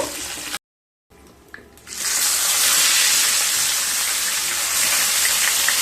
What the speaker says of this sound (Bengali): এইভাবে সমস্ত মাছগুলোকে ভেজে নেব।